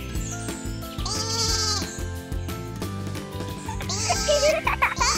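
A toy lamb bleats in short, repeated high cries over a steady background of music, the bleats coming in two clear bursts near the start and end.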